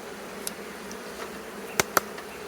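A steady, dense hum of many honey bees buzzing close by at a hive, with a couple of brief sharp clicks near the end.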